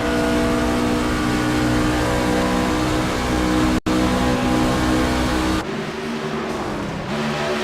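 A racing truck's engine drones loud and steady during a truck race at Darlington, its pitch dropping and shifting near the end as the throttle is lifted and reapplied.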